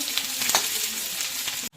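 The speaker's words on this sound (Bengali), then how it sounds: "পেঁয়াজটা 2 মিনিট ভেজে নিব" Chopped onion fries in a hot pan with a dense, continuous sizzle and a few stirring scrapes, heard close and alone before it cuts off abruptly.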